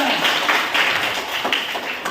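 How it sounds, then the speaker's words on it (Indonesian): A classroom of students claps for group 3 after their answer, a dense, steady patter of many hands throughout, fairly loud and close with no speech over it. "Tepuk tangan untuk kelompok 3"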